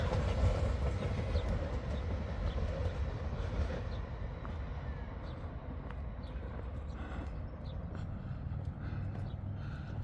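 A steady low rumble of a train passing about 200 metres away in Tikkurila, Finland, moderately distant and constant throughout, with faint clattering.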